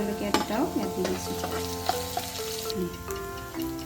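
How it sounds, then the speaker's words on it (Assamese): Onion sizzles in a pan with ginger, garlic and green chillies while being stirred, with a steady frying hiss and a few scraping strokes of a spatula, close and clear with no talking. "এই পিঁয়াজটো মই ব্ৰাউন কালাৰ হোৱালৈকে ভাজি ল'ম।"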